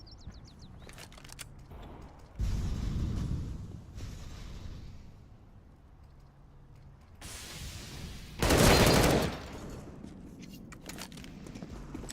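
Gunfire in Counter-Strike: Global Offensive during a competitive ESEA match, with scattered bursts of shots and a couple of loud reports among footsteps and quieter game ambience.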